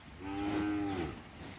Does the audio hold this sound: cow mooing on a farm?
yes